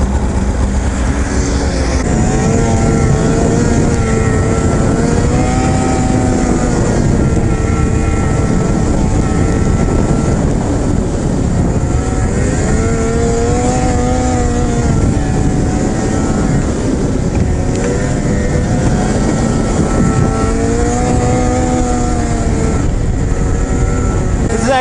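A 2015 Arctic Cat XF 600 snowmobile engine running loud and close, its revs climbing and falling in repeated pulls over a constant droning roar.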